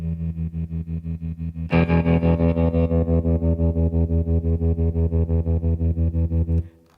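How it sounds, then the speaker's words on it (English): A Roland Blues Cube guitar amp pulses with a heavier tremolo mix, the sustained chord chopping into an even, rapid throb that swells louder midway and stops abruptly near the end. "So I'll increase the mix of the tremolo."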